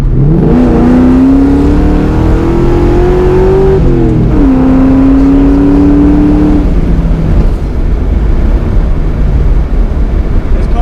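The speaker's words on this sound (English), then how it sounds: "So I'm going to drop it down into second, give it a little rev." A car's engine revs up after a downshift into second gear while driving, a loud sustained rising drone that dips at the shift and then climbs again under steady road noise.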